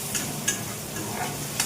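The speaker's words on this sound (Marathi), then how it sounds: "इथे मी आता टॅमॅटो पण टाकले आणि टॅमॅटो चांगला आता परतून घेते" Onion and tomato sautéing in a pan: a soft, steady sizzle with light stirring scrapes and faint ticks of a spoon, close and quiet, with no talking.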